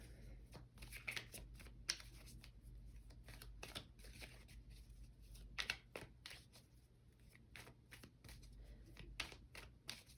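Rapid riffling and soft slapping of tarot cards being shuffled, repeated in quick bursts up close, with no talking.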